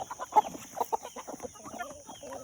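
Mixed bantam chickens cluck in quick overlapping bursts, close and busy, with a steady high electrical whine running underneath.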